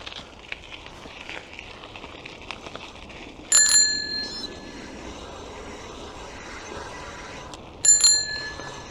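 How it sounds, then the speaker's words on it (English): Bicycle bell rung twice during a ride in Canada, each a bright metallic ring that decays over about a second, standing out clearly over steady wind and road noise. "Just sounding my bell so persons can be aware."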